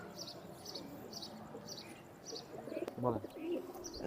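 Kamagar pigeons of a Pakistani flying breed coo softly in a cage, with faint chirps and bird calls repeating over a low background rumble.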